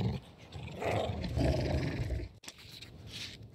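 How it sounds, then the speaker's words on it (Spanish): Wolves attacking in the video game King's Bounty 2, producing deep growls and snarls in a short close burst, rough and throaty with a brief break before more growling. "Uy, nos atacan los lobos"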